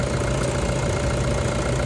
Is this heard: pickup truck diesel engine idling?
yes